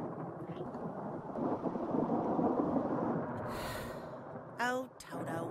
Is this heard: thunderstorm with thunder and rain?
yes